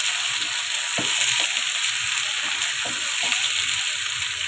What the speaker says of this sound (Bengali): এই পেঁয়াজ মরিচের সঙ্গে আমি আলুটাকে একটু ভেজে নিব।